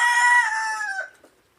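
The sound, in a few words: chicken on a pig farm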